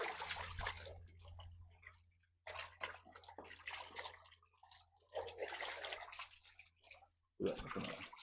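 Water washing out a frog pond, splashing and gushing in bursts separated by brief near-silent gaps, fairly faint with a low steady hum underneath.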